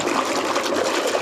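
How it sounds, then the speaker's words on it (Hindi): Water pours steadily into a container for a laundry detergent powder test, a continuous close rushing, splashing flow with no other sounds. "हमने इसमें पानी लिया है"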